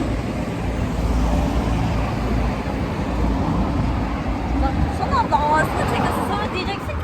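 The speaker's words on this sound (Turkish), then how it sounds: "Bir sürü araba gelmeye başladı." A busy street fills with the steady roar of many cars passing close by, a continuous traffic rumble with a brighter swell near the end, while people talk faintly underneath.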